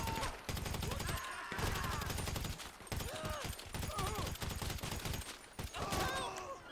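Rapid bursts of gunfire from GTA Online, repeated volleys with brief gaps and a sustained low rumble, loud and close, over game sounds and sliding whistles.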